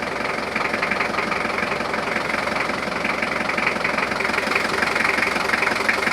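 Car engine idling under a bonnet crudely lined with soundproofing underlay, giving a steady, muffled mid-pitched hum with a faint rhythmic knock, continuous and even, with no voices.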